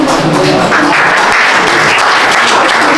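Audience applause at a pigeon-flying association prize distribution ceremony, a steady, loud wash of clapping from many hands lasting the whole stretch.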